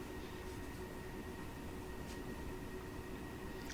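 A train running steadily along a line in the video game Train Simulator, a faint, continuous rumble and hum with a faint tonal whine, unbroken and without talk.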